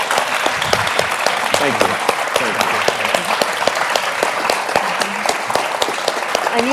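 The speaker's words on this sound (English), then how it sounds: "May I ask you all just to stand up so we can give you a proper applause" Audience at an awards presentation stands and applauds, a dense steady clatter of many hands clapping throughout, with a brief spoken thanks over the top.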